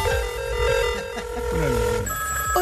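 A telephone ringing with a steady electronic tone that shifts pitch partway through, loud and continuous.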